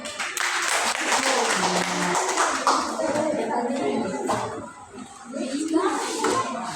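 Group applause in a classroom or small gathering, a few seconds of scattered clapping mixed with chatter and voices, gradually thinning out toward the end.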